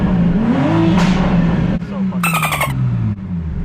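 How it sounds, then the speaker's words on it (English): A 2021 Toyota Supra engine revs and rises in pitch up close at a car wash, with a brief high squeal partway through and a steady motor rumble underneath. "Can't pull into the car wash without revving it."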